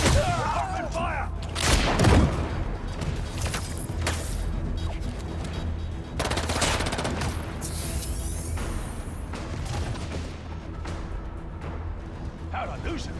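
Gunfire in the video game Marvel's Spider-Man 2: bursts of shots and heavy booms and thuds, loud and close, with a shouting voice and game effects mixed in.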